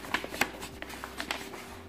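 Sheets of bead-craft material from an unpacked order are handled close by, making soft papery rustles and light crinkling taps in quick, irregular bursts.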